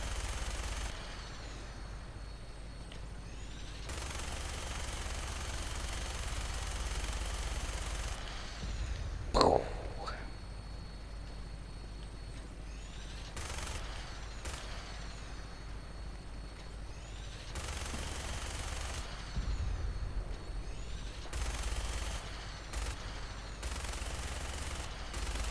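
Gunfire in the video game Fallout 4 comes in repeated broadband bursts over a steady low game-ambience rumble. The shots form long stretches of rapid fire, with one sharper louder report near the middle.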